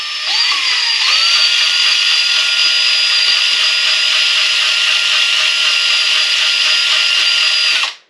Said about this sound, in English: I'm just going to mix it up like this with a drill for a few minutes.